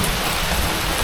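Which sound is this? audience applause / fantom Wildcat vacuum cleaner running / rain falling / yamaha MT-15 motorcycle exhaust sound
rain falling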